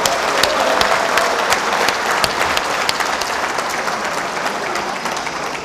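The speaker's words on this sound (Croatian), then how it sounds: "Može jedan aplauz za Hemtramik." A studio audience applauds for Hamtramck, a loud, dense burst of clapping that holds steady for several seconds and fades slightly toward the end.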